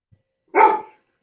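A single short dog bark sounds once, close and fairly loud, with silence before and after; it comes from one of several pet dogs at home just after feeding.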